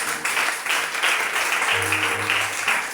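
A church congregation bursts into applause to acclaim the Lord, a dense wash of clapping that swells and stays lively throughout, with a low hum of voices underneath.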